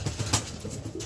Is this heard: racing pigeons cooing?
yes